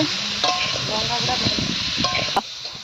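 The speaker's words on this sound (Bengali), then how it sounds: "এদিকে সব কিছু ভাজাভাজি চলছে" Food sizzles and crackles in a hot pan while it is stirred outdoors under a tree, a village-style fish roe curry with pumpkin, and a voice speaks briefly over the frying.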